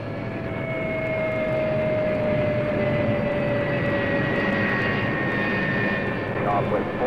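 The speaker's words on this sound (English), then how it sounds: "Shut up, compressor." An air compressor runs in a scale-model workshop, giving a steady, loud droning hum with a tonal whine that holds throughout, while faint voices murmur in the background.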